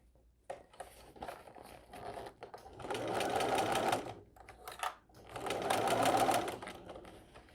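A sewing machine stitching a small crossbody bag runs in two sustained bursts of rapid mechanical whirring, close and clear, separated by quieter handling noises as the fabric is shifted and rotated.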